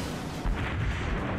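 Naval cannon fire in the warship battle game World of Warships, a short, deep boom bursting out in the middle of a low rumbling background, with no voices over it.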